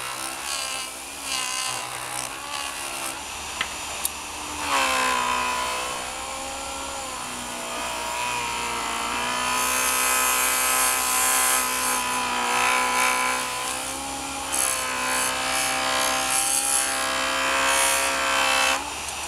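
A new felt polishing wheel spins against a liberal coat of polishing compound, producing a continuous close grinding rub that swells and eases in intensity over about twenty seconds, with no voices.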